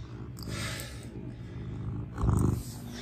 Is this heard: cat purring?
yes